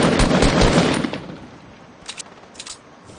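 Video game gunfire as a player is hit during a match: a loud burst of rapid shots in the first second fades off, followed by a few fainter scattered shots later.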